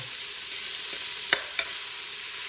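Pork rib tips caramelizing in a hot pan give a steady, loud, close sizzle with a couple of brief soft scrapes or pops partway through, no voices.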